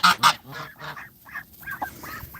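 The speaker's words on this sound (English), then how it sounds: "Geese are all so curious." Young geese honk in a quick series of short, close calls, a few loud bursts up front followed by softer, scattered honks.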